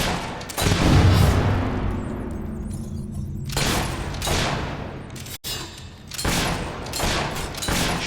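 Sustained gunfire shootout in Fable III, dense overlapping shots and booming volleys that run almost continuously, with one abrupt cut midway before the firing resumes at a slightly lower level.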